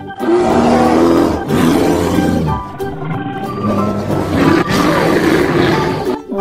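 A black-furred bear lets out loud, sustained roars and growls that run almost continuously through the clip with only brief dips, close and forceful, with no talking.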